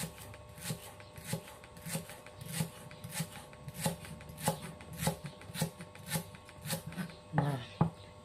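Lemongrass is sliced with a knife on a cutting board for sambal serai, producing a steady run of crisp, evenly spaced chops close to the mic, with a slightly louder cluster near the end.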